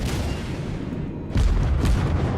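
Naval ship cannons in World of Warships let off a deep boom about midway, followed by a second blast, over a steady low rumble of battle.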